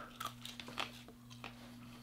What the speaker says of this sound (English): It's a little bit more of a, like a crunchy beef jerky.